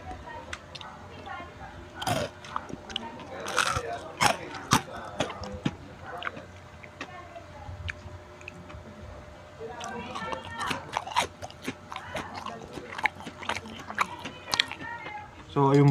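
Crunchy fried squash okoy balls being bitten and chewed, with several sharp crisp bites followed by irregular crunching close to the mic, under soft background noise.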